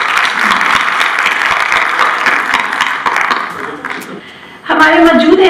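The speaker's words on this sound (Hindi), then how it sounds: "आप सबके लिए बहुत सारी तालियां।" Audience applause fills a hall at the opening ceremony of the Urdu-language film launch at Rawalpindi Arts Council, loud and steady for several seconds before dipping, then a voice speaks over the clapping.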